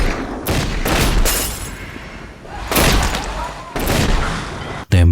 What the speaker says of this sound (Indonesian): Tembakan pun tak terelakkan